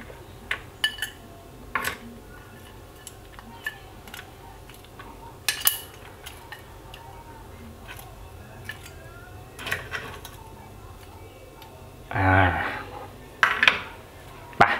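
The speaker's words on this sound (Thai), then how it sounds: "นี่คือเนื้อนุ่มสามารถใช้ช้อนเนี่ยตัดได้เลยไม่ต้องถึงกับมีดเลยนะครับ" A spoon cuts through crispy pork belly made in an air fryer, giving scattered sharp clinks and scrapes against the plate, with one longer crunchy scraping burst near the end and quiet gaps between.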